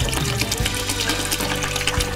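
Alcohol pours slowly into a mix of used cooking oil for homemade soap while it is stirred, making a continuous close liquid gurgle and splash with a steady wash of sound throughout.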